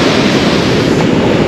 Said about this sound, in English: The sound of the waterfall is getting larger.